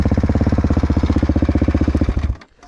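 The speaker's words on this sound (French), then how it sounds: "En fait, c'est une moto" A motorcycle engine revs hard for a wheelie, a loud, rapid pulsing roar close by that cuts off abruptly near the end, with no talk over it.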